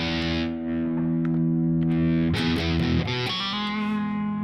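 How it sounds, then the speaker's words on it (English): Electric guitar played through a distortion box at the front of the signal chain, loud sustained crunchy chords ringing out, then a few rhythmic strums and a new chord near the end, with no talk. "And then I decided I was going to add a distortion box to the front."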